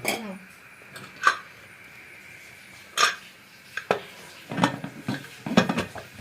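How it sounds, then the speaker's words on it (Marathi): A metal lid is set onto a pressure cooker of biryani, giving a few sharp clinks and clanks of metal on metal, spaced apart in a quiet kitchen with faint rustling between them. "आता झाकण लावायचा"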